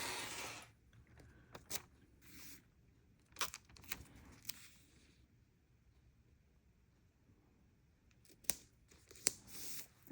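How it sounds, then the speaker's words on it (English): Scissors snipping through paper in several sharp, separate cuts, with quiet pauses and faint handling noises between them. "My scissors."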